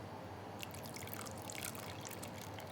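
Water trickles and splashes as it is poured onto bare, rootless soil, a steady low pour that turns to fuller splattering partway through, close and continuous with no one speaking.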